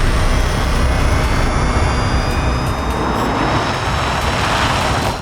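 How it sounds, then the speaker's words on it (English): A Rotor Visual FPV cinema drone in flight makes a loud, steady, close whining roar that holds unbroken throughout with no talk. "we helped our friends over at Rotor Visual test out their new FPV Cinema Drone"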